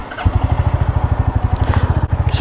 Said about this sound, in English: It's a very smooth engine